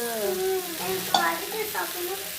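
Prawns fry in a hot pan with masala, a continuous close sizzle with a faint tonal hiss and one sharp clink of the stirring spoon partway through.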